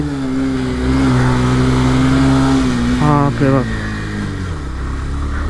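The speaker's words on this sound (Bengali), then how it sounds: "কতটা ইঞ্জিন স্ট্রাগল করতেছে" A motorcycle climbing a hilly road toward Bandarban in second gear drones loudly and steadily with a strained tone that dips briefly midway, while a voice speaks over the engine for a moment.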